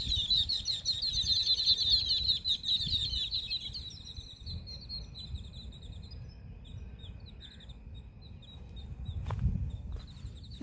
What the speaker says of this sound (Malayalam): അടിപൊളി പക്ഷികൾ പറക്കുന്നുണ്ട്